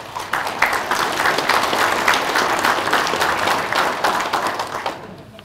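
An audience applauds at a 2018 general assembly, with steady dense clapping from a roomful of people that fades out over about five seconds.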